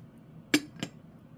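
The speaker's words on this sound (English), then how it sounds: "artisan-made blown glass vase" Two sharp, bright clinks from an artisan-made blown glass vase being handled, struck or set down about a third of a second apart, close and clear against a quiet background.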